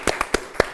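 Four sharp, separate claps spaced about a quarter second apart, loud and close with nothing else between them, as a studio audience applauds contestant Margo on a game show.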